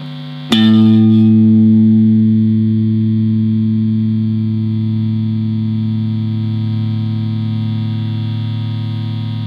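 A single electric guitar note is picked sharply with a pick and left to ring out with a sustained, distorted tone that fades slowly over several seconds.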